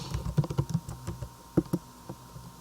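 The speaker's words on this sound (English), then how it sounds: "type in your email address" Typing on a computer keyboard: a quick run of close key clicks, a brief pause, then two more distinct taps and faint tapping, with no voices.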